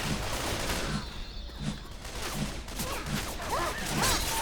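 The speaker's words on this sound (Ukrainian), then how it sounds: "Мені боти стріляють." Rapid bursts of Left 4 Dead 2 video game gunfire crackle and pop repeatedly over a busy, noisy background, with a few whooshing sweeps near the end.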